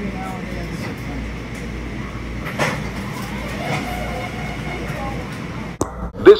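Interior of a Metro-North Harlem line commuter train heading toward Southeast, with a steady rumble and rattle of the moving car, a few clunks and a sharp bump near the end, and a voice speaking over it.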